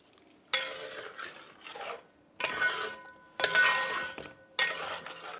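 Melted butter with degi chili powder being stirred into chicken changezi, heard as several separate bursts of scraping and rubbing against the pan, each a second or so long and close by, with short quiet gaps between them.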